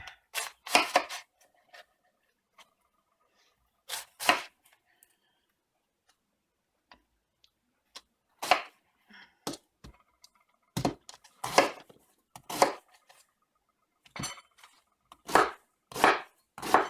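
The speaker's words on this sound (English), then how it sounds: "we are going to chop some cabbage" A knife chops cabbage on a cutting board in irregular bursts of sharp, close thunks, separated by pauses and occasional light ticks.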